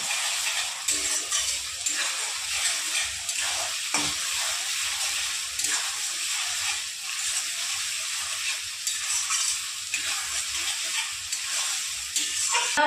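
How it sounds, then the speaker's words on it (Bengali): Green chilli paste and garlic paste stir-fried in a pan of oil while cooking fish head with Malabar spinach, a continuous close sizzle with intermittent scraping stirs of the spatula, no talking. "দিয়ে একটু নেড়ে চেড়ে কষিয়ে নেব।"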